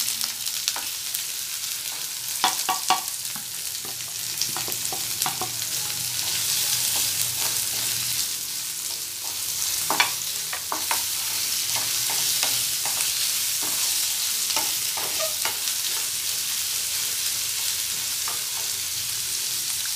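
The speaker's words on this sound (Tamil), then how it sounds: "ஆனியன் நல்லா ஃப்ரை ஆகட்டும்" A large sliced onion and a sprig of curry leaves fry in oil in a pan for egg pepper fry, giving a continuous close sizzle marked by frequent scraping stirs and no voices.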